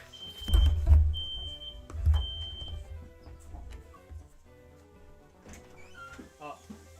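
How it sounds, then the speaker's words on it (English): A fire alarm in a video game sounds as a steady, high electronic tone that repeats in short beeps, mixed with game noise and a thud-like rumble, while a person talks loudly over it. "Now it's a fire alarm is going off."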